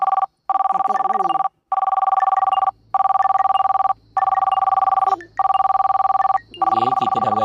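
An electronic phone ring in a Roblox bus driver horror game, repeating in long bursts with short gaps, loud and steady, with faint game-like background sounds and a brief voice near the end.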